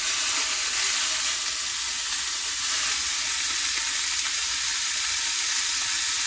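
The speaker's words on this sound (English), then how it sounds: "we're going to start cooking our meat" Minced beef sizzles steadily in a single pot for three-bean chili, a broad continuous frying hiss with no speech over it.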